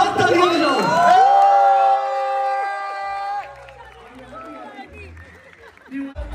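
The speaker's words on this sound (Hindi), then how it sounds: "इनके मम्मी पापा के लिए जोरदार तालियां बजाओ" A group of friends at a long-weekend cottage gathering in Canada cheers and whoops loudly for someone's parents, the shouts fading into lighter chatter.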